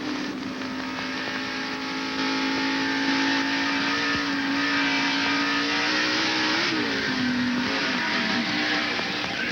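A 1990 NASCAR Winston Cup race car at Dover Downs roars from inside the cockpit, a loud, steady engine drone with shifting pitch as it revs and eases off, continuous throughout with no talk.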